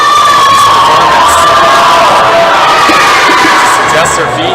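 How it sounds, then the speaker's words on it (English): A loud, sustained roar of cheering and whooping from spectators at a provincial top rope climbing finals, dense and continuous, with shrill voices riding on top and a commentator speaking through it. "The crowd's happy about this."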